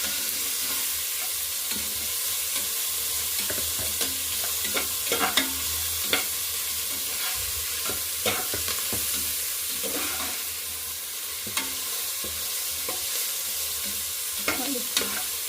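Soya pulao ingredients fry on a high flame in a pan, with a steady loud sizzle and repeated scraping stirs from a spoon, close up and without talk.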